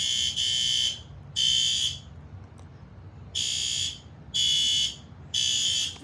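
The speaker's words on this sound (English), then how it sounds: "the alarm is going to be loud, so you might want to cover your ears." A newly installed fire alarm system sounds after a pull station is pulled during a test, giving loud, harsh buzzing horn blasts about a second long, repeating at a steady rhythm with brief gaps, close by.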